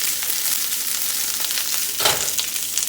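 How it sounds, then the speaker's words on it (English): Cabbage for yaki-style ramen fries in a pan over medium to medium-high heat, giving a loud, dense, unbroken sizzling hiss with a brief surge of crackle near the end and no talking. "Just going to let that sizzle."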